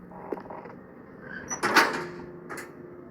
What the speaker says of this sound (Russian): О, нам открылась эта дверь.